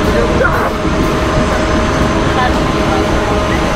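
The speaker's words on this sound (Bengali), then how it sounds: "জয়দেবপুর জংশন থেকে 3 মিনিটের যাত্রাবিরতি সম্পূর্ণ করে আমাদের আন্তনগর পদ্মা এক্সপ্রেস ছুটে চলছে" Padma Express intercity train running after leaving Joydebpur Junction, a constant loud rumble and rattle of rolling carriages heard from inside, steady without pauses.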